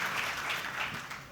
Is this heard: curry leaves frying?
no